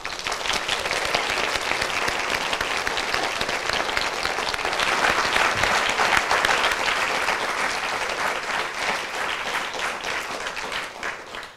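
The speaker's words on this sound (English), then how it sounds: "Can we please get another round of applause?" An audience gives a lecture speaker a sustained round of applause after a talk on health and healthcare, dense steady clapping from many hands that holds for over ten seconds before tapering off.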